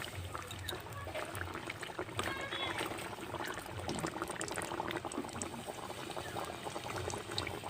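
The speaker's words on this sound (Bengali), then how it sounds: "ভেজে নেব পালং পুরিটা" Steady bubbling sizzle of spinach puri deep frying in hot oil, quiet and continuous with no talking.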